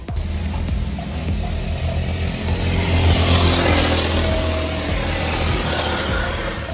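Go-kart engines at the kart pit boxes, a loud continuous motor drone with steady low rumble that swells slightly mid-clip as they rev, with no talking.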